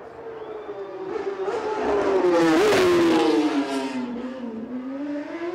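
A racing motorcycle at the Isle of Man TT in Ramsey screams past close by, its high engine note rising as it approaches, peaking, then dropping away with a Doppler fall.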